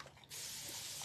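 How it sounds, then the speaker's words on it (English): Spray bottle misting onto a cleaning mat, a single close, steady hiss that starts abruptly and holds for under a second. "And then we're going to spray this."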